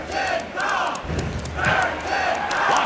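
Wrestling arena crowd in the WWF Warzone PlayStation game, a loud continuous looping roar of cheering and shouting with swelling chants, steady and flat in character.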